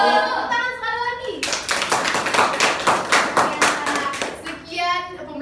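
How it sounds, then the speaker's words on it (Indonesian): Schoolchildren in a classroom clap their hands in a quick, rhythmic burst lasting several seconds, sharp and close, with a teacher's voice speaking before and after the clapping. "Tepuk tangan sekali lagi."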